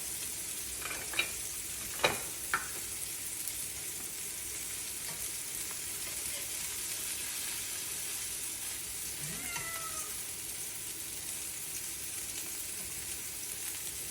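Greek meatballs fry in a pan over medium heat, giving a steady broadband sizzle that runs throughout, with a few sharp pops and clicks near the start and a faint squeak partway through.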